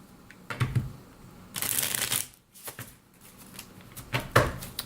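Tarot cards being shuffled by hand in quick riffling bursts, crisp papery flutters separated by brief pauses and followed by soft taps, heard up close with no talking.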